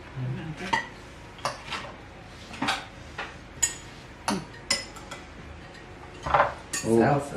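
Utensils clink and scrape against a dish in a home kitchen as food is tossed together, giving scattered metallic taps and stirring scrapes at an uneven pace, fairly close, with faint voices in the background.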